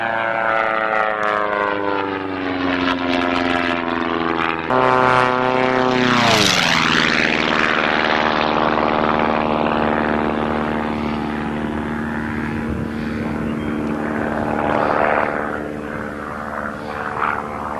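A propeller airplane in flight during commercial pilot training maneuvers, its engine droning loud and steady throughout, with the pitch sliding down then sweeping back up as power and speed change.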